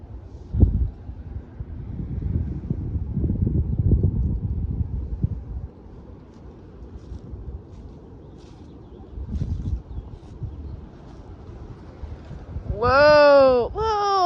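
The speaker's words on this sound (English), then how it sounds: "So windy." Strong wind blowing outdoors, rumbling and buffeting the microphone in uneven gusts that rise and fade, with a brief bird-like warbling call near the end.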